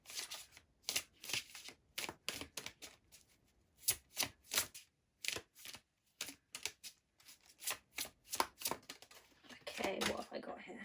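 Tarot cards are shuffled in rapid riffling bursts with short pauses between, crisp and close, as a voice talks softly over parts of it.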